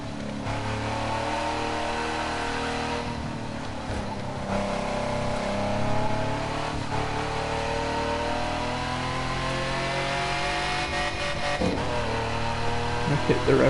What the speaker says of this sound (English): I hit the rev limiter there